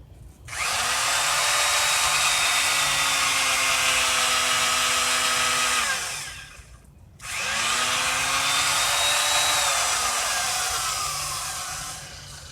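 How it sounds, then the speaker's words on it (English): A power drill turning a long auger bit bores into clay garden soil around tomato plants, whining loudly in two sustained runs with a brief pause between, pitch sagging under load. "I'll drill 3 holes in a circle a little over 2 feet in diameter around each plant"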